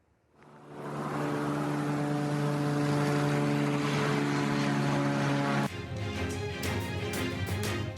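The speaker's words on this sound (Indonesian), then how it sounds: "Warga merekam sebuah pesawat melintasi langit Israel" A loud, droning propeller aircraft roars past over Israel, rising quickly and holding steady before the tone abruptly shifts lower as it moves away.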